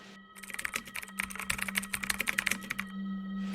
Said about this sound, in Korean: 하지만 저는 세차게 머리를 흔들고 바로 타자기를 치기 시작했어요.